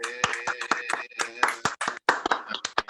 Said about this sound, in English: another round of applause for Batman